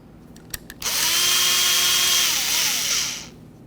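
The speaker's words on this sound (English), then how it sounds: "remove each of these two Phillips head screws in the center of this" A power driver spins out a Phillips head screw from a Ford Ranger truck bed, starting after a few light clicks and whirring loud and steady for about two and a half seconds before winding down.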